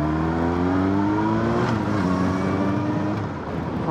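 A car driving through the capital city past police, its engine droning loud and steady with rising harmonic whine as it accelerates, continuous throughout with no talking.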